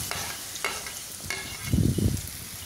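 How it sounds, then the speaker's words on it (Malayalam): Banana pieces fry in hot ghee in a pan, a soft continuous sizzle broken by a few light clicks of a utensil and a louder, rougher burst of stirring near the end. "ഒരു പാൻ അടുപ്പിൽ വെച്ച് നെയ് ചൂടാക്കിയതിന് ശേഷം ഈ പഴം അതിലോട്ട് ആഡ് ചെയ്ത് കൊടുക്കാം"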